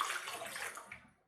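Two cups of warm water pour into a giant bowl for a yeast dough, a brief soft splashing gush that fades out within about a second.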